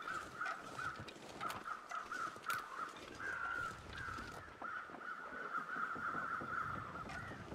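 Crows caw repeatedly in the video game The Long Dark, a steady run of harsh calls at moderate distance over a windy outdoor ambience, with no talk.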